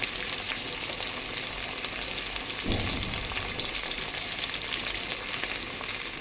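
Bagara rice sizzling and frying in a pan, a steady loud crackle throughout with a brief stir or knock near the middle, no talking.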